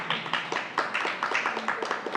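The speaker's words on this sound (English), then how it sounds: "Applause for Mahesh ji." A small class claps for a teacher at a yoga school certificate ceremony in Rishikesh, a modest burst of uneven hand claps running steadily throughout, fairly close.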